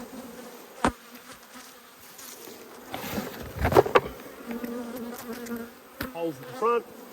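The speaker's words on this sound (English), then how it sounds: "So a few bees clustering around at the entrance and also along the back there." Honey bees from a struggling nucleus hive buzz around its entrance, a close, continuous hum with individual insects whining louder as they fly past.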